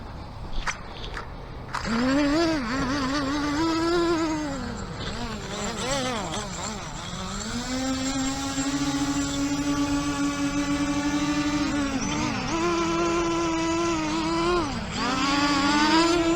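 An HS720G drone flies on its first test flight, its propellers giving a loud, insect-like harmonic buzz that rises and falls in pitch as the motors speed up and slow down, nearly continuous throughout.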